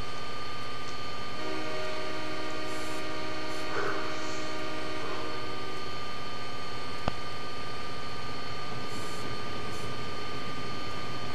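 A heavy freight train in Train Simulator 2014 on Marias Pass rumbles steadily with a sustained droning engine tone and a horn sounding in stretches, loud and continuous throughout.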